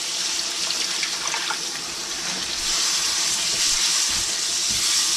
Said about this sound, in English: Now we can go ahead and put in our condensed beef broth.